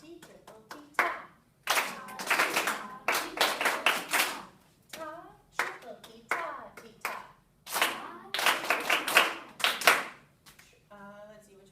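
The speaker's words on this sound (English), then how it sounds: "So I'll clap one first, and then you clap it back." A teacher claps short rhythmic patterns with bare hands in a lesson, crisp bursts in groups separated by brief pauses, close and fairly loud, with a voice speaking briefly at the end.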